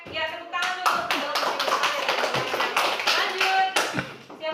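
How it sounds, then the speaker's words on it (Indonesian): Classroom audience clapping in a teacher training session at Universitas Tadulako, a steady dense patter of many hands at close range that runs the whole time, with a few voices mixed in. "ya tepuk tangan dulu"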